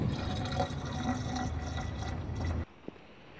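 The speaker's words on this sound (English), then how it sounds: "Fill cooling liquid." Coolant pours steadily into the cooling system of a Volvo B20 engine, a close, continuous liquid gurgle that stops abruptly near the end, leaving a faint click in the quiet.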